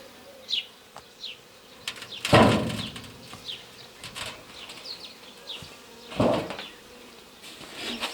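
Honeybees buzz around an alpine-style hive nucleus set up for mating flights of two queens, a steady close hum with individual bees zipping past the microphone and occasional louder passes.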